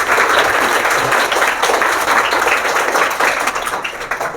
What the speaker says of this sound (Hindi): आप तालियों से स्वागत कीजिए